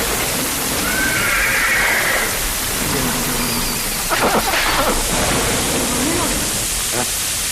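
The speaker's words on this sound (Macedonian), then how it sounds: "То се новите коњи на база. Не се свикнати да стојат надвор кога грне." Horses whinny and neigh while standing outdoors in the rain, over a constant wash of rushing rain noise, with a few sharp swishing sounds midway.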